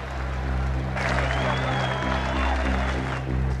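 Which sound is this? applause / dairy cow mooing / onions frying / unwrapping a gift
applause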